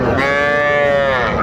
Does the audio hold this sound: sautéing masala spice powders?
no